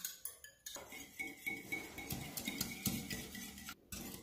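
Whole egg, salt and cream are beaten in a bowl with a utensil, giving rapid rhythmic clinks and taps against the bowl, close and fairly quiet.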